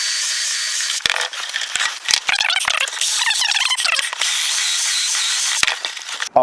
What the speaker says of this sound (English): and I can just drill it.